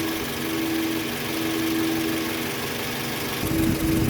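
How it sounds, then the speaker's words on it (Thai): Air conditioning compressor of a Toyota Camry ACV running under the hood, a steady close mechanical hum with an engine idle drone throughout, rising slightly near the end; no talking. "เสียงการทำงานคอมแอร์ก็อยู่ในเกณฑ์ปกตินะคะ"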